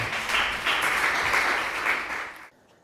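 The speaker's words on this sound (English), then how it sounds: "let's give Robbie a round of applause and make him feel welcome" Round of applause from an audience welcoming a speaker at a business event, dense steady clapping that swells and then fades, cutting off sharply into near silence.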